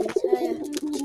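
A pet pigeon coos close by in a low, throaty, rolling run of soft pulses, steady and unhurried, with no talk over it.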